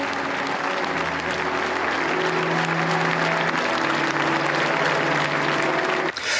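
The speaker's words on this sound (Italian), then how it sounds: "L'ultimo lungo applauso glielo rivolge il popolo di Militello in Val di Catania sulle note di cavalleria rusticana." Long, steady applause from a large crowd of townspeople at Pippo Baudo's funeral in Militello in Val di Catania, dense and sustained throughout with music faintly underneath, cutting off abruptly near the end.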